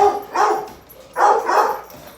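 Two bursts of yappy barking from puppies nearby in a home kitchen, each a quick cluster of high-pitched yips, separated by a short pause.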